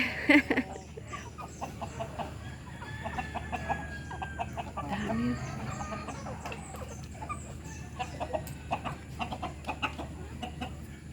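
Rhode Island chickens cluck repeatedly at feeding time on a farm, close by and busy, with soft murmuring and a few quiet voices in the background.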